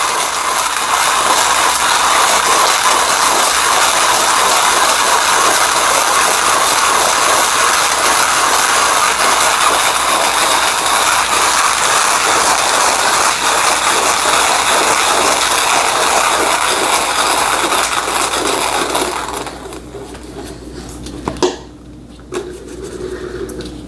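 A hand grinder grinds Ethiopian coffee beans for an AeroPress brew, making a steady, loud, gritty crunching whir that runs continuously for about twenty seconds before stopping, followed by a few quieter knocks.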